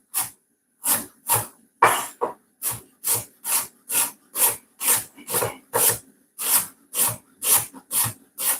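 A knife slices an onion into julienne strips on a cutting board, with about seventeen crisp, evenly spaced chops that sound close and clear and come in a steady rhythm.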